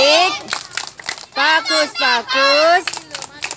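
Kindergarten children chant a rhythmic clapping rhyme in unison, their high voices leading while a few sharp hand claps punctuate the chant, close and lively.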